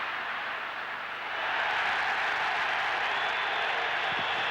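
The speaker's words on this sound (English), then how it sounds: "the crowd are up because Morales has gone down" A large football stadium crowd at a Uruguay versus Australia qualifier roars as a player goes down, a dense broad wash of voices that swells noticeably partway through and holds loud and sustained to the end.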